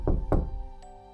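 Thunderous knocks on a front door in the small hours, two heavy blows close together and loud, followed by a fainter tap and a ringing decay, with no voices.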